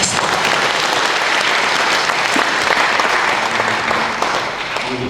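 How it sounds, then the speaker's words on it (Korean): An audience in a church hall at a forum applauding to welcome a presenter, loud continuous clapping from many hands, close and full throughout, easing slightly toward the end. "박수로 와주시면 고맙겠습니다."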